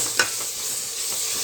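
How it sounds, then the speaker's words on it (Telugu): Ginger-garlic paste frying in oil with browned onions while making tomato rice: a steady soft sizzle with a brief stir or scrape near the start, no voices. "ఈ స్టేజ్లో అల్లం తెల్లగడ్డ పేస్ట్ వేసేస్తున్నా."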